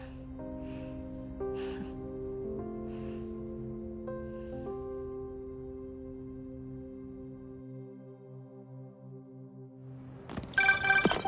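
A phone rings in the Spider-Man 2 video game, a steady tonal ring tone held for several seconds over a low hum, ending in a brief burst of louder game noise.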